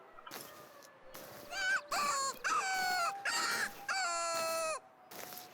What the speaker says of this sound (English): You can hear a lot of howls,